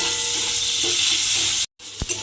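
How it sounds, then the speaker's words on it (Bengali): A medium-sized chopped onion fries in oil in a pan, giving a close, continuous bright sizzle with a few stirring knocks, then a brief dropout and a short thump near the end. "দিয়ে এবারে পেঁয়াজটাকে একটু লাল করে ভেজে নিতে হবে।"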